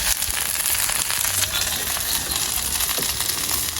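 Garlic sautés in a pan with a continuous close crackling sizzle and a few faint clinks of stirring, and no voices over it.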